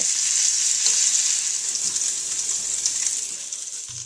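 Strips of bacon frying in a pan for a paleo spinach omelette, a steady bright sizzle and crackle that holds close and loud, easing slightly toward the end.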